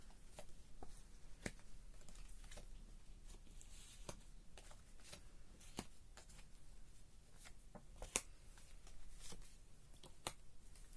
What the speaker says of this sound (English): I'm gonna spread the cards right now